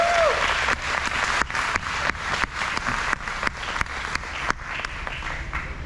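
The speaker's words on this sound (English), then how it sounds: "Let's give these guys a round of applause" Applause from an audience greeting Kyle and Chloe Painter as they come up, a steady patter of many hands with a few louder single claps, moderately close and not very loud, with no talk over it.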